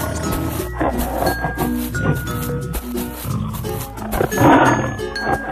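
A tiger roars among the sounds of an animated animal-crossing cartoon with a fountain, a rough growling roar running steadily over busy music for several seconds, with no talk.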